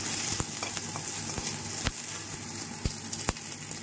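Whole garlic cloves fry in hot oil in a pan, giving a steady close sizzle with occasional sharp pops and spoon scrapes, no talking.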